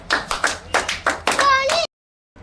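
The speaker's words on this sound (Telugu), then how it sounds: "క్లాప్స్ కొట్టండి పాపకి గట్టిగా" A small group claps for a young girl during an alphabet guessing game indoors. Several quick, loud bursts of hand claps sound close by, a voice briefly rises over them, and then everything stops abruptly into silence.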